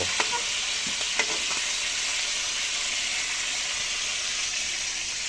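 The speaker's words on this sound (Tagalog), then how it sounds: "Prito tayo ng liempo." Pork belly frying in hot oil, a constant loud sizzle close by, with a few sharp pops early on.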